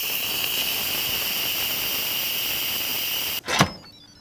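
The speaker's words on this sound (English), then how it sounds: "All right, let's release the steam." An Instant Pot vents steam during pressure release, a loud continuous hiss that holds steady for over three seconds and then cuts off abruptly with a brief clunk of the valve.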